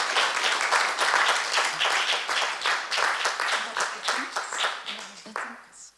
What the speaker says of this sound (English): I'd like a big applause to them as well